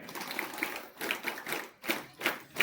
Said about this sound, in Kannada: ಒಂದ್ಸಲಿ ಹ್ಯಾಂಡ್ಸ್ ಅಪ್ ಆಗಿ ಚಪ್ಪಾಳೆ ಹೊಡೆಯೋಣ